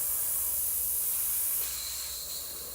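An airbrush sprays cleaner in a steady, loud hiss that carries on unbroken for a few seconds, then drops slightly in level and becomes thinner.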